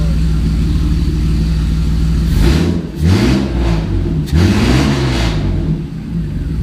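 A Mercedes car engine with its catalytic converter and entire exhaust system missing idles loudly, then revs a few times with a raw, rumbling roar, the revs rising and falling before settling back to a steady drone.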